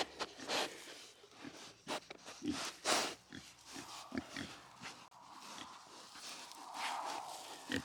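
Pigs snuffling and grunting nearby in short bursts, with scattered rustles and movement around them; no clear talking.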